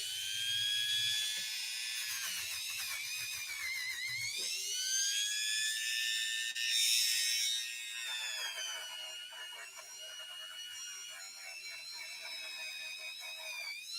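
A Dremel rotary tool grinds in a workshop on parts of a Singer 201-2 sewing machine, a continuous high, whining buzz whose pitch rises and dips as pressure on the piece changes, steady throughout with no talking.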